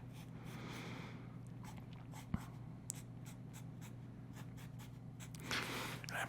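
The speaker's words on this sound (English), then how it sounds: "I guess I'll draw you a body too." Pencil scratching and sketching across paper as an artist draws a figure's body, soft continuous strokes with a few brief taps, close and quiet over a low steady hum.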